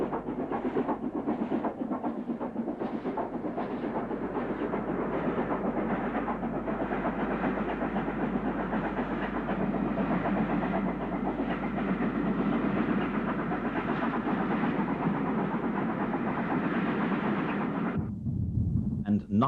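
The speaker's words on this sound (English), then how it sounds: "Here we see the newly repainted A3 number 4472, the famous Flying Scotsman," Steam locomotive A3 No. 4472 Flying Scotsman, newly repainted, hauls a special train past with a steady rumbling roar and rhythmic clatter, loud and continuous until it drops away at the end.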